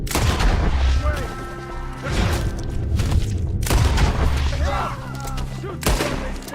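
Red Dead Redemption 2 shootout in which repeated loud gunshots and booming volleys crack in irregular bursts while voices shout beneath them.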